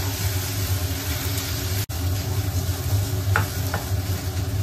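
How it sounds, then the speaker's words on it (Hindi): Veg noodles being stirred with Schezwan chutney in a pan, a steady low sizzle with a few soft scraping strokes, a constant engine-like hum underneath and one abrupt dropout. "तर हे चांगलं मिक्स करून घेणार"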